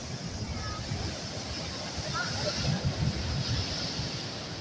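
Surf from cyclone-driven sea waves washing onto a beach, a steady broad roar with swelling surges and some wind rumble on the microphone, voices talking faintly over it.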